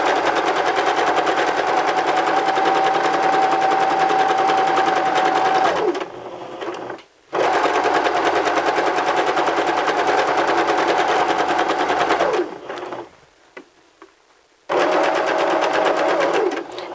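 A sewing machine runs a stay stitch along fabric down to just above the waistline, loud and close, in three sustained bursts separated by short pauses.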